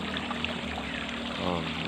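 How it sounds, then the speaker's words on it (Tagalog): Strong water in an irrigation canal rushes with a steady, dense roar. Faint voices sit under the flow. "Ang lakas ng tubig."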